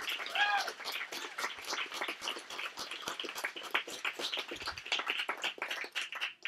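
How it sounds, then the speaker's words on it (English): A live evening performance audience applauds the show's performers, a dense patter of many hands clapping with scattered cheers, moderately loud and sustained throughout, with voices mixed in. "Can you guys help me cheer on all the wonderful fucking performers we had tonight?"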